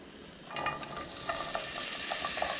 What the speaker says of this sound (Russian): Обжариваем